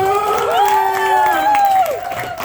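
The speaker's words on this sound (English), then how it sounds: "please give a round of applause for our headliner of the night" A comedy club crowd cheering and clapping as the headliner is brought on, with sustained whoops and shouted voices rising and falling over a continuous bed of applause, loud and close.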